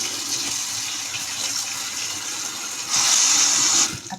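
Water gushes steadily over freshly cut vegetables set to soak for kimchi, a continuous splashing stream that grows louder and brighter near the end before tapering off.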